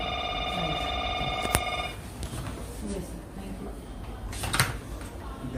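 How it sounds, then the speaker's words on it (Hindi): A telephone rings with a steady electronic bell tone for about two seconds in a news-studio setting, then stops, leaving background talk and room noise. "फोन है कि बजना बंद ही नहीं हो रहा।"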